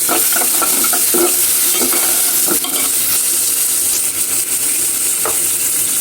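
Chillies and green peas frying in oil with softened onion, a loud, dense, continuous sizzle close up, with rhythmic spatula scrapes against the pan throughout.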